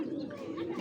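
A female racer pigeon gives a soft, low, murmuring coo up close, a brief continuous throaty hum.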